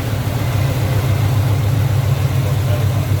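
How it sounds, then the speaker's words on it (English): A 1969 Chevrolet C10's small-block V8 with four-barrel carburetor and headers idles steadily with a deep, smooth low rumble, close and continuous throughout. "you can see how smooth that engine runs. Also hear how good it sounds"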